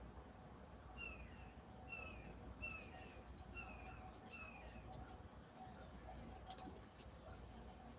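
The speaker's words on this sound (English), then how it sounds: "I hear a couple of little birds out there singing now." Small birds sing outdoors, a short series of thin, high chirps repeated about once a second, faint and somewhat distant over a soft background of insects.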